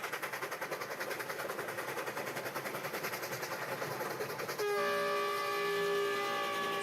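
Steam locomotive chuffing rhythmically gives way to a loud, sustained chord of train horns blaring, heard from a distance outdoors.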